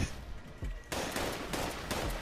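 Sustained gunfire in a Korean War–era army video game, dense bursts of shots and impacts starting loud partway in and continuing steadily, with no talk.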